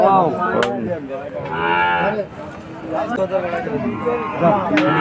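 Sahiwal cattle at a busy cattle market low and moo repeatedly and loudly, with several long drawn-out calls rising over steady crowd chatter and bargaining voices throughout.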